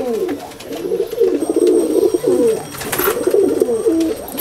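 Several loft-raised pigeons in a home loft keep up a dense, overlapping cooing, close by and fairly loud, with a few sharper sounds mixed into the steady murmur.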